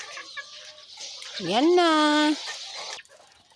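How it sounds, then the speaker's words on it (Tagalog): Texas chickens on a farm give a single drawn-out, rising call in the middle, with soft clucks and scratchy noises around it and a brief spoken word. "punta muna tayo dun sa mga manok kong Texas"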